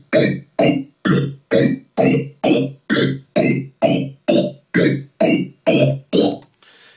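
Nord Modular synthesizer patch imitating a police siren, a series of about a dozen evenly spaced, loud pulsing bursts that sweep in pitch, ending abruptly.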